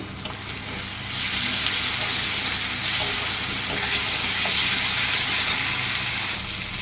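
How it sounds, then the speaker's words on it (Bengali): Sliced onions already fried reddish-brown sizzle steadily in a pan with about two spoonfuls of ginger-garlic paste, a loud, continuous close-up crackle for a mushroom curry, with no talking. "এর মধ্যে আমি আদা রসুনের পেস্ট দিলাম"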